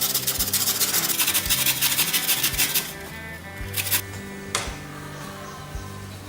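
Indian gooseberries (amla) are rubbed against a grater in quick rhythmic rasping strokes, then come slower, sparser scrapes and a few knocks after the first few seconds.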